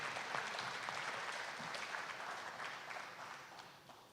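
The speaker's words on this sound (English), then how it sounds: "Let's give all the candidates a big round of applause" Audience applause for the candidates at the close of a local candidates forum debate, a faint, distant sustained clapping that tapers off slightly.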